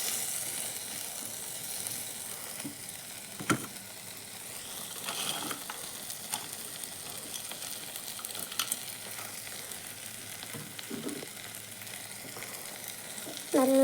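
Chopped chapati pieces are tossed and stirred in a frying pan, a faint low sizzle under intermittent scraping and tapping of a spoon against the pan, with no talking.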